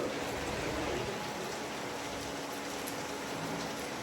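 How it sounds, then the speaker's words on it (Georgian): Steady rain falls through the night, an even continuous hiss of drops with no other sounds standing out. "წვიმს ხალხო მთელი ღამე ისე ლამაზად წვიმდა"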